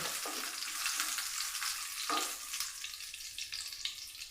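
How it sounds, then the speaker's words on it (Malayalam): Chili frying in hot coconut oil gives a loud, steady sizzle with a few brief stirring scrapes, close up, with no talking. "വെളിച്ചെണ്ണ ഒഴിച്ചു കൊടുക്കാം നമ്മുടെ മുളക് ഇട്ട് കൊടുക്കാം"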